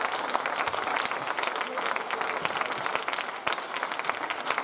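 A church congregation claps steadily and densely throughout, a continuous wash of applause at moderate distance with no pauses.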